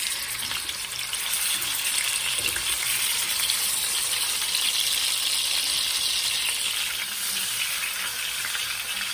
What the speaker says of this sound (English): throw it into the frying pan, and the frying pan should be nice and hot.